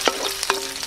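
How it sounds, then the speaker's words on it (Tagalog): Garlic sautéing in a pan for homemade corned beef, a brief sizzle with a couple of quick stirring scrapes, close and moderately loud with no talk. "Gigisalan tayo ng bawang"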